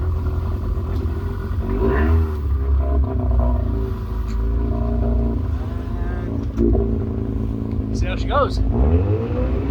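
Aluminum jon boat converted to a jet sled with a 1/4-inch thick hull, its motor droning steadily and loudly as the boat swings around on the water, with people talking over the engine noise.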